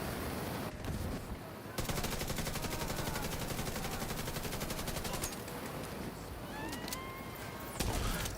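Sustained automatic gunfire in The Division 2, Season 2 2023, firing the Ortiz Exuro weapon build: a dense rapid rattle of shots running nearly continuously, loud and steady with a brief break near the start, no talk over it.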